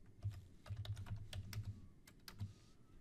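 Typing on a computer keyboard, quick bursts of close, light key clicks in irregular clusters with short pauses, quiet and with no one speaking.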